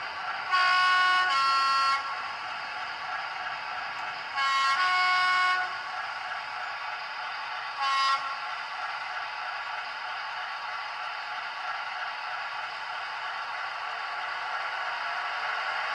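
Three train horn blasts sound over a steady rumbling hum: two longer toots, then a short one, fairly distant, before the drone continues alone.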